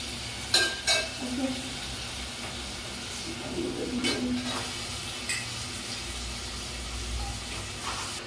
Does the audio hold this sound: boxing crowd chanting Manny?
no